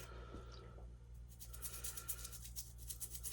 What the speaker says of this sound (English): just go over it with a toothbrush.